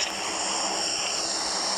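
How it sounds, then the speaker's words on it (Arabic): Airplane engine in the PUBG Mobile video game, a steady droning whine with a bright high-pitched hum, moderately loud and continuous with no talk. "طيارة اهي."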